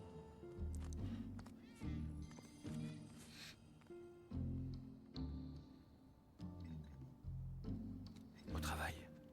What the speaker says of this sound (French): ils ont explosé le budget pour faire les chats là.